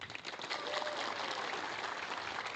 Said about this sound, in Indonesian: yang bangga jadi orang Indonesia coba tepuk tangan